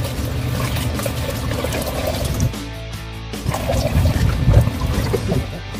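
Bloodworms being poured through a net filter into water give a steady, close watery pour and trickle, with a louder splashing surge near the end.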